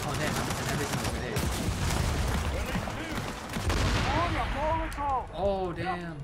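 Gunfire and grenade blasts in Gears of War 4 merge into a dense, continuous clatter of shots and booms, with a voice talking over the din and rising chirpy in-game effects toward the end.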